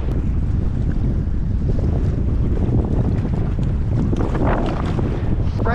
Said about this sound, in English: Yeah, it's super windy out here.